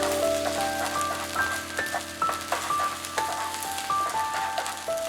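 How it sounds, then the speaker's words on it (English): Eggs sizzling in a pan beside fried rice for a traditional Cantonese dish, a steady crackling hiss with light stirring and small clicks. "Scramble them to make them coagulate."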